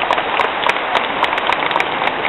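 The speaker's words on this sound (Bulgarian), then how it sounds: "Аплодисменти за вас отново." Applause from a large crowd of more than 12,000 teachers gathered at a national event, a dense, steady patter of many hands clapping throughout.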